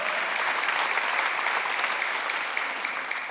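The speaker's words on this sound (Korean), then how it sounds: "박수 한번 하세요" A church congregation at a Sunday worship service applauds in a dense, even roar of clapping that holds steady for a few seconds, then eases slightly.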